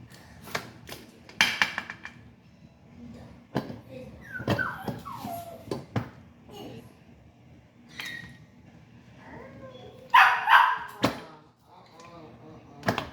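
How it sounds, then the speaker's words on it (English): A dog gives sharp yips, barks and whining whimpers in scattered bursts, some loud and close, while a person talks intermittently nearby. "You don't have no room to be yelling or barking like you do."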